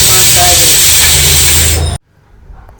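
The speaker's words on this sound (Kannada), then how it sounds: "ಸೊ ಇವಾಗ ರೈಸು ವಿಷಲ್ ಆಗ್ತು" A pressure cooker cooking rice vents a loud, steady steam whistle-hiss that cuts off abruptly after about two seconds, leaving faint kitchen background.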